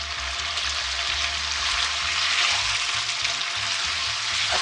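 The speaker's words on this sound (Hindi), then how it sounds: "2 से 4 मिनट के लिए मैं इसको और भुनाई करूँगी" Spices for pulao, including black pepper and garam masala, hiss and sizzle loudly in a pan, a dense continuous frying sound heard close up without speech.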